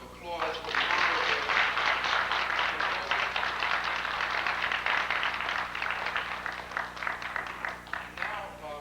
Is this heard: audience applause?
yes